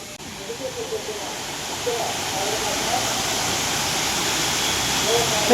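Continuous rushing water from a waterfall at Srisailam, with a steady broad roar, close and unbroken from start to finish.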